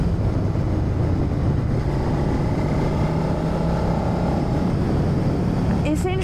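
Motorcycle ride along the banks of the Loire, a steady engine drone mixed with wind rush that holds for the whole stretch, a brief sharper burst near the end, and a rider's voice partly under the noise.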